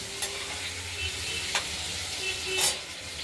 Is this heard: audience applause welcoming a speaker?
no